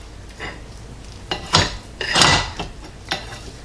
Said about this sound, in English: I'm just going to cut some slices for taste testing.